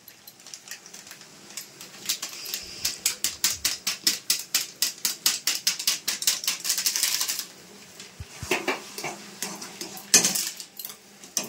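Rapid, rhythmic metallic scraping of a utensil stirring food in a pot, close and fairly loud, with a brief pause and then more stirring and a few sharper clinks.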